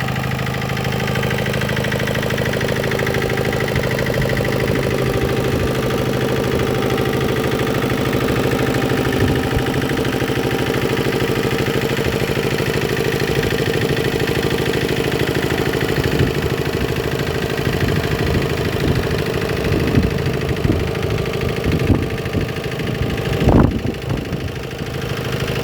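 A Yanmar TS50C 5hp single-cylinder diesel engine idles after a cold start, a loud, steady close-up chugging hum that runs throughout with a few sharper knocks near the end.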